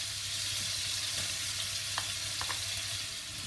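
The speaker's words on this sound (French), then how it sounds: "je vais rajouter dans le wok l'ail et l'oignon" Garlic and onion fry with shrimp in a wok for spicy scampi with fusilli: a dense, even sizzle held close and loud throughout, with a couple of faint utensil clicks and no talking.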